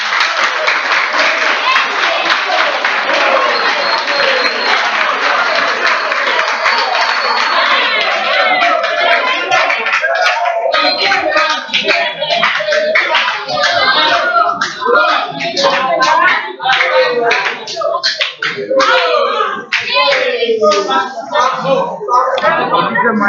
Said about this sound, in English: Clap for them as they come.